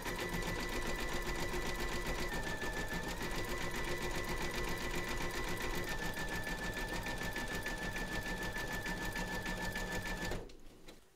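A sewing machine runs steadily while zigzag stitching around a Santa surfboard appliqué, a continuous close mechanical whir with a faint high whine, stopping abruptly near the end.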